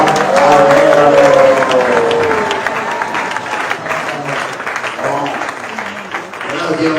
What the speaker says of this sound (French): tout le monde acclame le Seigneur en disant Amen